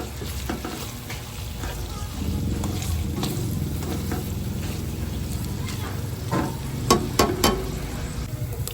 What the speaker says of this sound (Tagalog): Naghalo ako ng dalawang ano to, hotdog na jumbo para medyo maprito din yung ating hotdog.